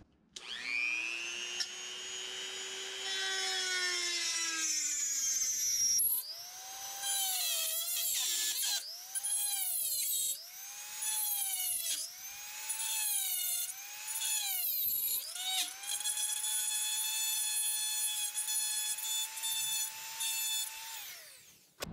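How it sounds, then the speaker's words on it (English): Rotary tool with a carbide burr cutting a tang slot in a knife guard: a high-pitched, whining grind that rises and falls in repeated passes, close and steady, with no talk. "I use a rotary tool with a carbide burr for expediency, so I don't have to sit there and do as much filing."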